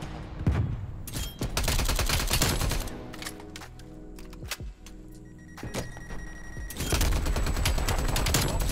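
Rapid SMG fire in Black Ops Cold War, loud and close, rattling in dense sustained bursts separated by brief lulls filled with game ambience and mechanical sounds.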